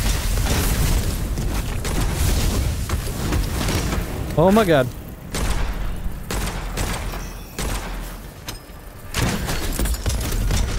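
Heavy booming blasts from a cannon-wielding enemy in the video game Witchfire, loud and close, while a player's voice exclaims over the explosions.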